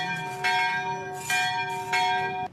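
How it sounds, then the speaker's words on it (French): A cathedral church bell rings three times at an even, unhurried pace, each strike ringing on with a long, steady hum between blows, clear and fairly close. "La cloche appelle les fidèles chrétiens à la prière."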